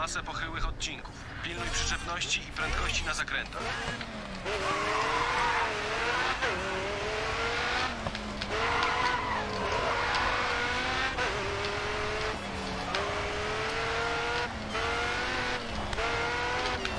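Race cars in the GRID 2 video game tear through a Hong Kong street circuit, engines revving and repeated sharp tire squeals rising and falling as they skid, while people talk over the action.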